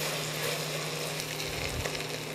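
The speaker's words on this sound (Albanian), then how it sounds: "Tashmë është skuqur edhe qepa edhe mishi." Onion and beef frying together in a pan for Albanian tasqebap, a steady close sizzle that fills the whole stretch with no talk over it.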